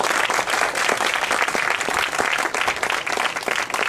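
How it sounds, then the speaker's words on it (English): A backyard birthday party audience gives a hypnotist's volunteers a round of applause, with dense, lively clapping, some sharp close claps standing out, and an energetic steady roar throughout. "let's give these amazing, powerful people a thunderous round of applause."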